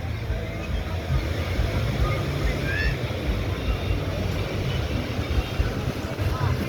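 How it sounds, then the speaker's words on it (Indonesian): Gentle small waves wash along a beach at Pariaman, Indonesia, under a steady outdoor rush of wind, with faint voices of children playing in the background. "ombaknya juga tidak terlalu besar di sini"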